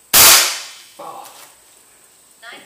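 A close, sharp crack from an FX Dreamline air rifle firing a 24-grain slug, one loud shot with a fast decaying tail, followed by fainter clicks and a small impact a couple of seconds later.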